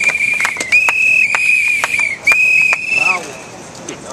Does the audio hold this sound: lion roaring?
no